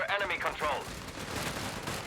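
Heavy .50 cal machine gun fire in the World War II strategy game Company of Heroes 3 during a 2v2 match, a rapid burst of shots early that fades into a rumbling battle wash under a caster's voice.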